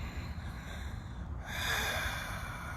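Exaggerated breathing in through the nose that imitates ocean waves, a close, airy inhale that swells and grows louder partway through, with no speech.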